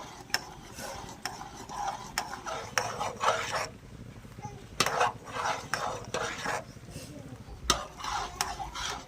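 A spatula works aloo tikki around a pan in repeated, rhythmic scraping strokes with metallic clacks, close and moderately loud.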